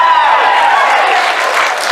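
An audience applauding at a convention panel, a broad wash of clapping from a large crowd that holds steady and loud the whole time, with faint cheering mixed in.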